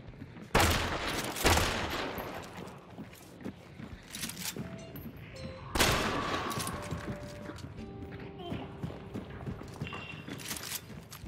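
Shots from the Mako gun in a video game ring out in a few loud, sharp bursts spaced several seconds apart, each trailing into quieter rattles and electronic tones.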